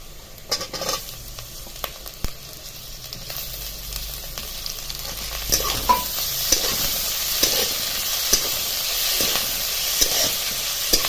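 Onion and tomatoes fry in a pan for an amti, a steady close sizzle under repeated scraping strokes of a stirring spoon, with no talk.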